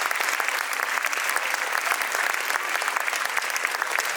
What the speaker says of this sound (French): donc on peut les applaudir eux aussi.